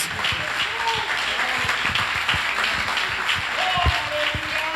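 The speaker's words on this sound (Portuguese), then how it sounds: "as tuas palmas louvem ao Senhor nessa noite" Applause from a church congregation, steady and close, with a preacher's voice speaking over the clapping throughout.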